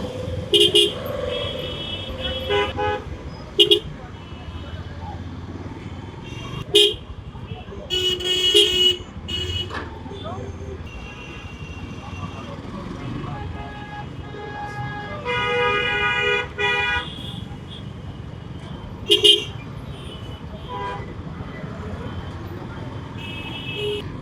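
Crowded Dhaka road with repeated car horns and occasional beeping honks rising over continuous traffic noise, near and moderately loud.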